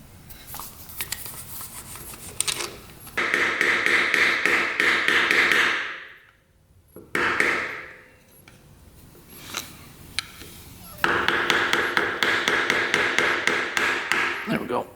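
Tapping to remove valve caps on a race quad engine, with bursts of rapid metallic taps and scraping that come in two long runs separated by a lull and single knocks, all close by.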